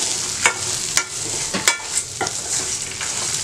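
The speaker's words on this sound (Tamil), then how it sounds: "அதையும் வந்து சேர்த்து நல்லா வதக்கணும். எண்ணெய் வந்து கொஞ்சம் கூட தான் வந்து ஆகும்." Pirandai, the adamant creeper, sautés in oil in a pan with a loud, constant sizzle, while a spoon scrapes and stirs in quick, regular strokes about twice a second, close up and without speech.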